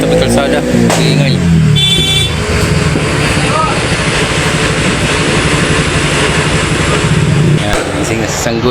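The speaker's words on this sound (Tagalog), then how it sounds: "Yan ang tradisyon ngayon, pag-ingay ng kanya-kanyang sasakyan." Dense, continuous roar of many vehicles on a roadside at New Year, with engines revving and horns tooting over one another, while voices shout in the background.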